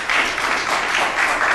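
Audience at a city council meeting breaks into loud, dense applause, a continuous wash of many hands clapping close up for just over a second and a half.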